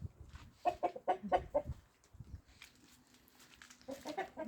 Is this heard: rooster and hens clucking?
yes